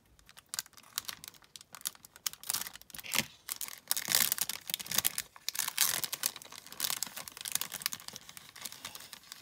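Crinkling and tearing of paper and tape, with sharp rips and rustles coming in uneven bursts, close by, with no talking.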